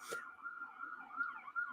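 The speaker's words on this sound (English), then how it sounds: "I hear the Brooklyn sirens going off like crazy" A Brooklyn siren wails steadily in the distance behind indoor sound, a sustained tone holding through the whole short stretch after a brief noise at the start.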